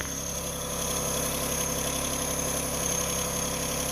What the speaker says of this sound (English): we're going to turn the key and let this thing start up. Fires right up.